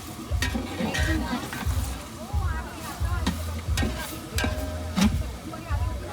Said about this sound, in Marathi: कांदा पोळते आता इकडे